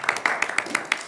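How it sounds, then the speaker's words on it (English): A small group at a council meeting clapping briefly, a short burst of about half a dozen even claps close by, with no talk over it. "We're going to give you a little clap."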